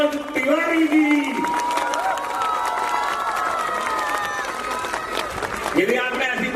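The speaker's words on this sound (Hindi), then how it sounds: "एक बार जोरदार तालियां बजा के स्वागत करें आज के मुख्य अतिथि" A school event crowd claps and cheers loudly for a chief guest, a dense sustained wash of applause with shouts, while an announcer talks over it through a PA.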